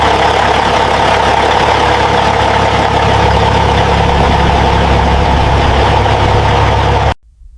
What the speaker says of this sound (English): engine started, running smoothly without issues